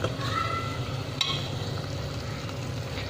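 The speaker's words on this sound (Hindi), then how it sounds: "कीमे को अच्छी तरह फ्राई करना होगा ताकि इसका कच्चापन ख़त्म हो जाए।" Minced keema fries in a pan with a continuous close sizzle. A single sharp scrape of stirring sounds partway through.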